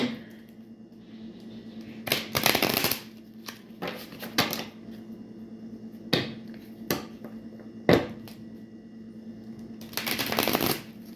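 Tarot cards being shuffled by hand in several separate bursts of riffling and snapping, close and fairly loud, with short pauses between each shuffle and no voices.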